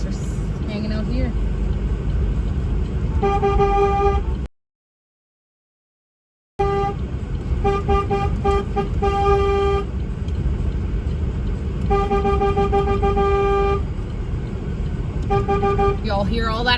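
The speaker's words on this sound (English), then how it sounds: "Y'all hear all that honking?" Car horns blare in repeated long honks over steady traffic rumble during a Saskatoon slow-roll cruise, with a short silent gap partway through.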